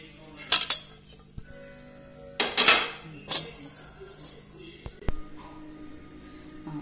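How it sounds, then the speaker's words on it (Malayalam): Metal spoon scraping and clinking against a pot and bowl as spinach and mango aviyal is served out, several sharp bright clatters in bursts with quiet pauses between, no talk. "ഇനി ഒരു ബൗളിലേക്ക് മാറ്റുക."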